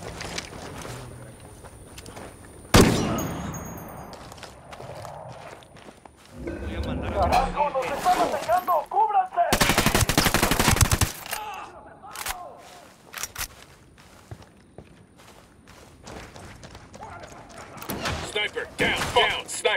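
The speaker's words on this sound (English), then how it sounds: "I'm opening fire." Gunfire and machine-gun bursts in the tactical shooter Ghost Recon Wildlands erupt amid squad radio chatter, with loud sustained volleys in the middle and scattered shots and battle noise around them as voices talk over the fighting.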